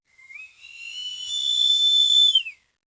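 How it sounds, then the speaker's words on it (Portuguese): A single high-pitched, piercing whistle rises, holds steady for about two seconds, then cuts off, clear and alone against silence. "Um assobio agudo, penetrante, que não tem direção certa."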